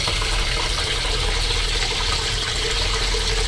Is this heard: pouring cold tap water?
yes